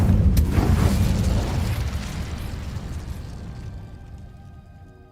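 Incendio fire spell cast in the video game Hogwarts Legacy, a loud fiery burst with a sharp crack at the start, then a roaring whoosh that gradually fades away over several seconds.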